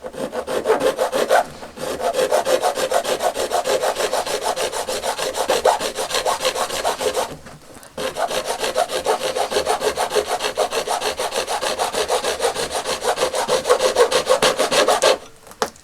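A hand saw cuts through a small piece of plastic for a vintage toy repair station restoration, in steady rapid back-and-forth rasping strokes close up, with two brief pauses between runs of sawing.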